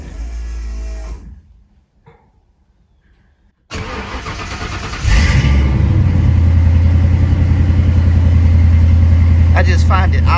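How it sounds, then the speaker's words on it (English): A Ford Maverick with a fuel problem and a loud, relocated fuel pump cranks and fires up, a brief whir and hush before the engine catches and settles into a steady, loud, close idle rumble; a voice is heard near the start. "I'm gonna start it up, and the fuel pump has gotten louder since the location that I put it, but I'll let you hear that."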